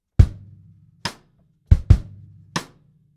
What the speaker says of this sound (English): So you've got a kind of syncopated backbeat sound there.